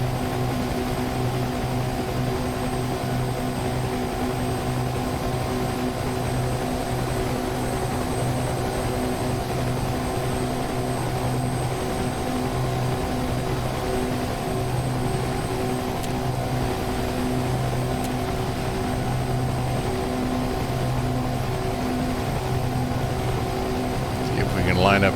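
Steady drone of a Bronco propeller aircraft engine in a combat video game, a constant humming roar with tonal bands that holds level throughout, with faint voice chatter.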